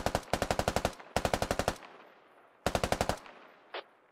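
Automatic gunfire from a teammate in the military shooter game Squad rips out in three loud, rapid bursts of about eight to ten shots each, close by, separated by short pauses.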